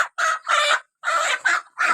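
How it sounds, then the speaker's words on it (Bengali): A rooster clucks and squawks in agitated bursts while being caught by hand, several loud, close calls separated by brief pauses. "এটা কিন্তু মোরগ"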